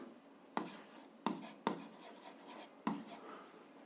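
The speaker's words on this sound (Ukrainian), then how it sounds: "Записуємо тоді перше. Отже, пишемо" A pen scratches out an algebra equation on paper, producing quiet, soft strokes punctuated by four sharper taps as new marks begin, close up and alone.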